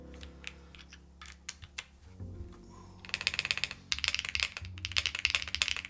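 Mechanical keyboard typed on with its gaskets removed during a sound test, giving a quick run of close, crisp key clacks that starts sparse and becomes a dense, steady typing burst.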